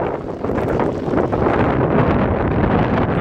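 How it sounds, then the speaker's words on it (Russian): Powerful wind roars continuously against the microphone beside a snowmelt ravine running to a river in winter, a loud, dense rushing that swells slightly as it goes on. "но сильный ветер"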